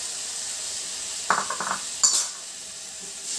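A spoon stirs a pan of tomato rui posto curry, giving a few soft, close clinks and scrapes over a steady background hiss. No one speaks.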